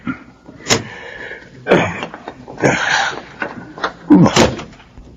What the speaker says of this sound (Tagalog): Buksan mo na itong pinto nitong kotse.